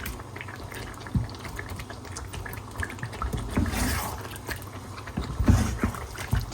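Curry cooking down without added water in a pot over high heat, a steady bubbling simmer with soft spits and occasional louder pops and scrapes, close by and without talk.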